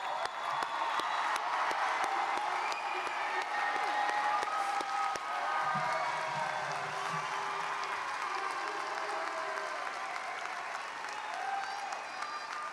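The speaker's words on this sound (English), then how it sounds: "let's give them a round of applause" Large audience at a Renton Technical College commencement applauds standing graduates, a sustained dense wash of clapping with scattered whoops and cheers, loud and steady throughout.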